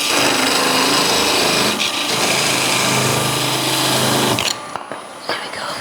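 A wood lathe spins a carving mallet head while a spindle gouge cuts at reduced speed, a steady high whirring scrape that stops abruptly near the end, leaving quiet with small knocks.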